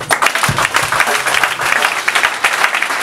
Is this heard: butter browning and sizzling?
no